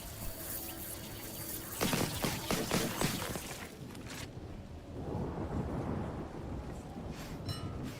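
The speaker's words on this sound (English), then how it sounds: "Especially considering it's raining." Heavy rain pours down in a steady wash, with several loud crackling bursts early on and a rumbling swell partway through, no voices over it.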